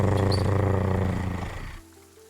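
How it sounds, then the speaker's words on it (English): A hound growls behind a bar in a tabletop fantasy campaign, a low, rough, sustained rumble that holds steady and then fades out near the end, close and alone. "The hound starts to growl."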